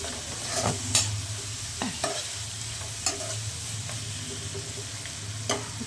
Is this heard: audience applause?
no